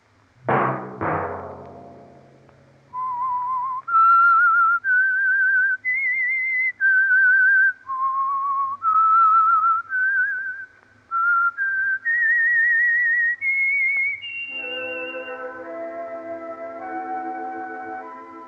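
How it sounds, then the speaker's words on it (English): A clear, solo whistled melody of sustained notes stepping up and down, the theme of the 1950 radio drama The Whistler, preceded by a couple of short musical hits, ending as an orchestral chord fades in. "Let that whistle be your signal for the Signal Oil program"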